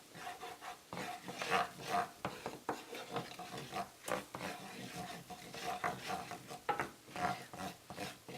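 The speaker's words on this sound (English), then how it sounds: "I'm going to just stir that a little bit, and brown that just with that butter" A utensil stirs flour into melted butter in a pan, giving soft, close scraping and rubbing strokes in an irregular rhythm, with a quiet sizzle underneath.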